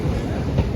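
A Namkhana-bound local train pulls into the station with a close, steady low rumble and rolling rattle, brief and without voices.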